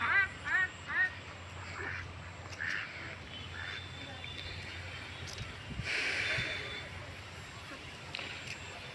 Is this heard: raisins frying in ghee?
no